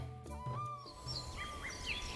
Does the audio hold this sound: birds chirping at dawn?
yes